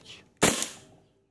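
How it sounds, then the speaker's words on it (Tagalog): A WE M92 airsoft pistol fires a single sharp 0.2 BB shot, one loud close crack with a brief fading tail after a short quiet lead-in. "WE M92 firing."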